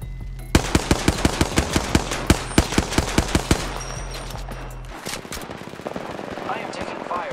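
Apex Legends gunfire: a rapid run of about fifteen evenly spaced close shots, then a pause and a burst of quicker, fainter distant fire, with a voice talking over the later part.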